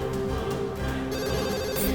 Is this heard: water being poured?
no